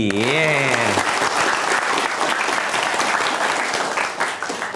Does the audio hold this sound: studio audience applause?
yes